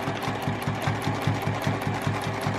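A sewing machine stitches around a quilting ruler to form a shamrock heart shape, its needle thumping in a fast, even rhythm, close and steady throughout with no talking.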